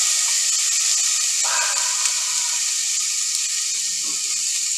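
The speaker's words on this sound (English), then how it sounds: "You ready for that sizzle? We're going to hear that sizzle." Oil sizzles loudly and steadily in a hot pan while cooking chili, a constant bright crackling hiss with a faint clink partway through.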